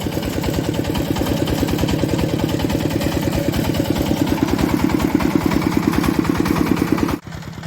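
Walk-behind tiller fitted with a rotary cultivator running steadily in a garden plot, a close, loud, rapidly pulsing engine drone that holds constant before cutting off abruptly near the end.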